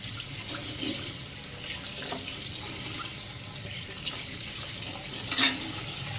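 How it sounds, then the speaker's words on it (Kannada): Flattened rice (poha) is rinsed in water, giving a steady close wash of running and sloshing water with a small splash near the end; no talking. "ಈ ಥರ ನೀಟಾಗಿ ತೊಳಿಬೇಕು ಇದನ್ನು, ಅವಲಕ್ಕಿನ"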